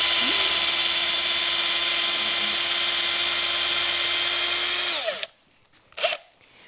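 An electric drill whines steadily at high speed while spinning a wooden dowel through a dowel jig, then abruptly spins down and stops, followed by a couple of brief handling knocks.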